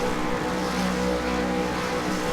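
V8 Supercars engines at a race start at Road America, a dense, continuous, loud mechanical roar from several cars held steady at high revs.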